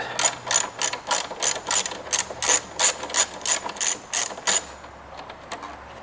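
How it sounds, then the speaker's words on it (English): An 8mm socket ratchet wrench removing a center bolt on a 2001-2017 Honda Gold Wing motorcycle, a rapid run of about a dozen sharp, close ratcheting clicks in an even rhythm that stops near the end, with no talk. "Then using your 8mm socket, remove this center bolt."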